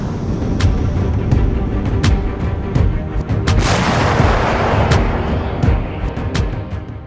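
A 2S7 Pion (Giatsint-S) self-propelled artillery gun fires, a loud heavy boom with a broad rushing blast and rumbling echo amid continuous low background rumble and scattered sharp cracks.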